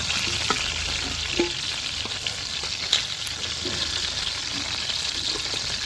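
Chicken frying in hot oil in a wok, a continuous close sizzle with crackling pops and occasional stirring clinks, no voices.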